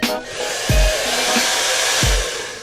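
A hair dryer runs in a luxury palace hotel bathroom, loud and close with a steady whooshing roar from start to finish, broken by a couple of dull thumps.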